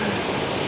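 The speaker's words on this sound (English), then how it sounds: "Beautiful waterfall." Sahalie Falls on Mt Hood pours in a steady, dense hiss of falling water, close and fairly loud, lasting under a second with no clear voices over it.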